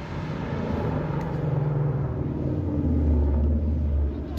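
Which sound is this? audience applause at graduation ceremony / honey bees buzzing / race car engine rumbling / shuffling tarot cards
race car engine rumbling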